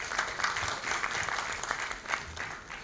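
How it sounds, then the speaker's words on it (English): Audience applause at an awards and board installation ceremony, a steady dense clatter of many hands clapping throughout, fairly near and filling the room without any talk over it. "Multiple firsts for Neha, so another round of applause for her again."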